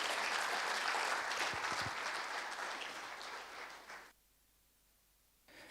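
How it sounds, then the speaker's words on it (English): Audience applause welcomes a Brahma Kumaris coordinator at a Krishna Janmashtami gathering, a full steady round of clapping that tapers off over about four seconds before the room falls silent. "Please welcome her with a big round of applause."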